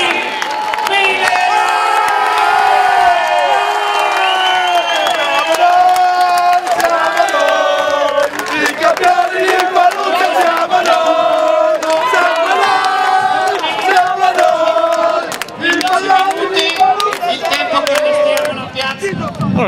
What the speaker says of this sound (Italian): Facciamo un grande, enorme applauso ai vincitori del Palio 2013